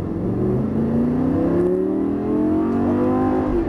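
A car accelerates at full throttle on a race track, its engine tone rising steadily and loud from close by, heard alone with no talk.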